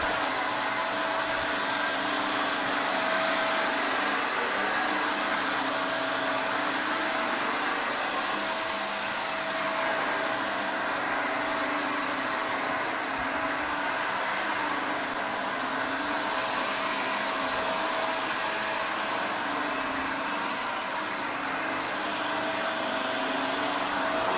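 A Eureka Floor Rover Pet vacuum cleaner runs steadily and close by, a continuous whirring motor drone with a high whine that holds level throughout, with no talking.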